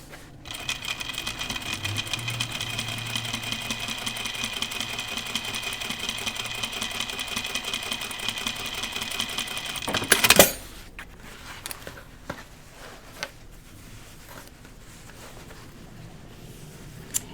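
A home sewing machine runs steadily for about ten seconds while top stitching jeans, a continuous near whirring hum, then stops with a sharp clack; quieter handling sounds and small taps follow.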